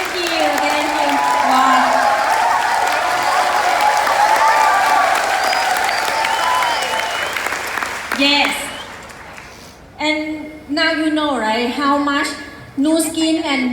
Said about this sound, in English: I have to give him a big round of applause